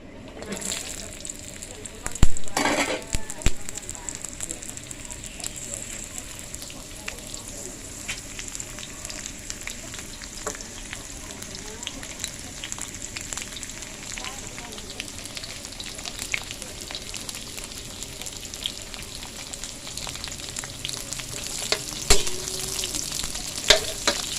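Fish fries in a pan of boiling oil, a continuous close crackling sizzle with occasional stirring and splatter bursts, and a voice talks briefly in the background.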